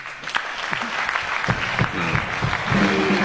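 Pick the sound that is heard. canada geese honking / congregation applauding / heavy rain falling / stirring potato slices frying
congregation applauding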